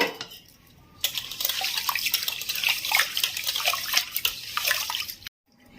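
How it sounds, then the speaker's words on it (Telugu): Water sloshes and splashes in a vessel with small clattering rice grains, a busy wet rinsing sound lasting several seconds, then stopping abruptly. "బియ్యము రెండుసార్లు ఇలా కడుక్కోవాలండి"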